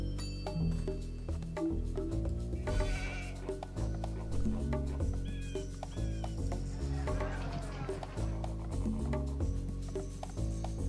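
Repeated sheep bleats over a looping game music track in Age of Empires II HD, several calls scattered through the clip with some other farm-animal sounds.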